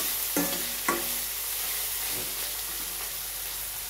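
Onions fry in a pan with a steady broad sizzle, while a spoon or spatula stirs and scrapes them in a few brief strokes near the start and middle.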